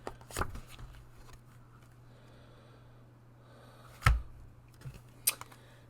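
A pile of tarot cards being shuffled, quiet riffling and soft flicks with a few sharper card snaps, close and faint over a low steady hum.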